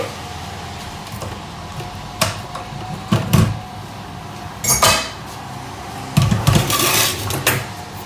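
Plastic spoon folding a cake batter in a bowl, with intermittent scraping knocks against the bowl's sides scattered through a quiet background, close and moderately loud.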